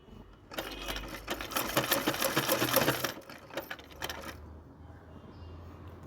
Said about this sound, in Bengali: পুরোটা সেলাই করে নিই।